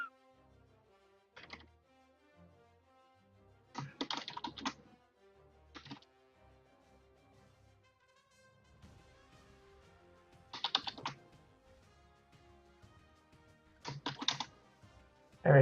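Someone types a password on a computer keyboard in short, clattering bursts of keystrokes separated by quiet pauses, close and fairly soft over a faint background tone.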